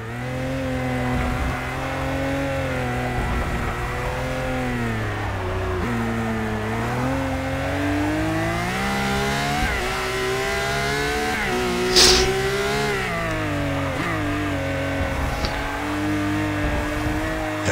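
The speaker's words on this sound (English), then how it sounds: "I'm not a big fan of how the LaFerrari sounds in the game." A Ferrari LaFerrari in Forza Motorsport 6 races around a track, its game engine sound rising and falling through gear changes and revs, loud and close, with a brief squeal near the middle and no talking.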